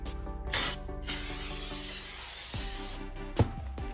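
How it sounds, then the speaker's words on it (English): Brake cleaner sprayed from a can onto new brake rotors for a Lexus IS350, with a short burst followed by a long, loud, steady hiss, then clicks and clatter as the spraying stops. "the only thing you need to do to prep these is just wipe them down with some brake cleaner"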